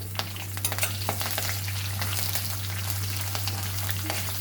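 Curry leaves, a cinnamon stick and star anise fry in hot oil with a steady, close sizzle and crackle, joined now and then by scraping stirs.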